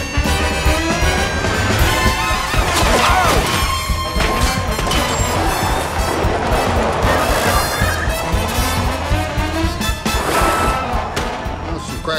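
Gunfire in a police shootout from Hawaii Five-0 crackles as repeated sharp shots and impacts, loud and dense throughout, mixed with shouting voices and action-scene noise.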